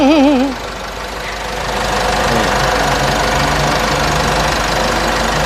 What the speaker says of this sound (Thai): อันนี้พี่ติดเครื่องไว้เนาะค่ะ ติดไว้จะเป็นชั่วโมงก็ได้ครับ